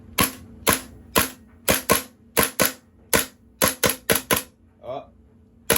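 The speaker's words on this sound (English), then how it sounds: "Let's fill it with BBs again" A KWA kz.61 gas blowback airsoft gun firing BBs: a run of about a dozen sharp, snappy cracks at an uneven semi-automatic pace, close and loud, ending after a short pause.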